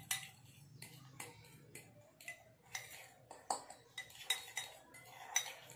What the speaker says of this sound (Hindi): अब मैं इनको करूँगी मिक्स।